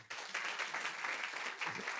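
Applause from a church congregation during a Christmas sermon, a dense, steady wash of many hands clapping that fills the whole moment without any talk.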